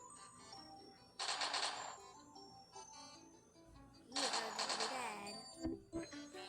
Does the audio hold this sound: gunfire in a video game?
yes